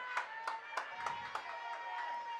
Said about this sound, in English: The crowd is on their feet here.